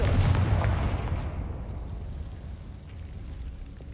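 A Confringo fire spell cast in the Hogwarts Legacy video game, heard as a booming burst that rumbles and fades away over several seconds.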